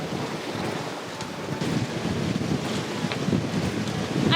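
Sailboat beating upwind into ocean waves, with steady wind roar buffeting the microphone and water rushing and slapping against the hull throughout, getting slightly louder toward the end.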